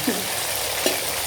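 Prawns frying in a pan as the water cooks off, a constant close sizzle with two brief scraping stirs, one near the start and one near the end.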